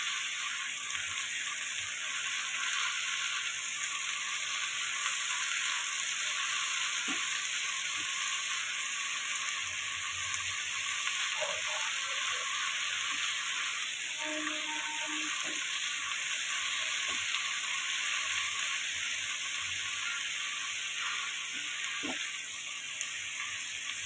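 Oil bubbling steadily in a pan while cooking chana kofta, before the soaked spice paste of Kashmiri chilli, turmeric and coriander goes in, giving a soft, even sizzle with a few faint clicks and stirs, alone throughout.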